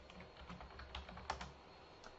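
Computer keyboard keys being typed while naming boundary surfaces in Ansys Fluent CFD software, a quick run of soft, close clicks with a few sharper taps, steady and alone.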